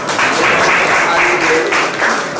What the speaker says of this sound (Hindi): आज ही चलिए भाई सब ताली बजा के स्वागत करो।